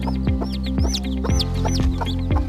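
Day-old native chicks and hens on a rural Philippine farm, with repeated clucking and bright chick peeps sounding in a steady rhythm, close and continuous.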